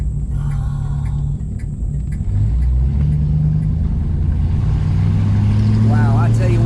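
A 1964 Dodge Polara 500 with a big-block engine rumbles loudly and builds revs as it accelerates along a back road, the deep engine drone rising steadily while a person speaks over it.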